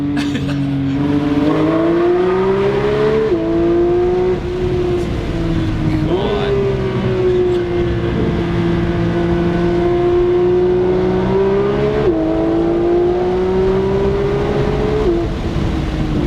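A Porsche 911 GT3 (992) engine drones steadily, its pitch rising and falling with several sharp throttle blips, loud and close throughout.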